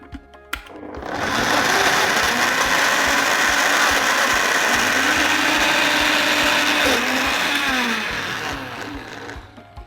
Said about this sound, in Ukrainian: Закриваємо блендер і знову збиваємо.